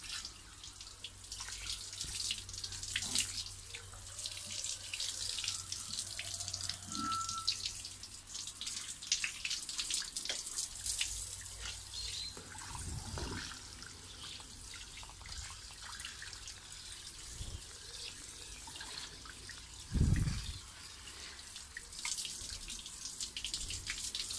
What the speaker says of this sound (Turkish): Suyu kapatalım sizlerle.